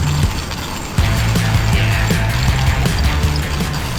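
Coffee being ground in a hand grinder, a continuous close, loud mechanical grinding with a rhythmic ratcheting churn over background noise.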